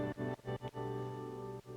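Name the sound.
wet reverb signal sidechained by kick drum, modular synth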